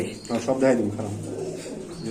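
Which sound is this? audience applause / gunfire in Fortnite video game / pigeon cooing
pigeon cooing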